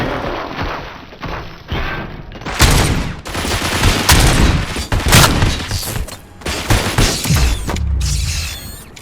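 Heavy gunfire in the RoboCop: Rogue City video game, loud repeated bursts and booming shots in quick succession with mechanical clanks, continuous and close for the whole stretch.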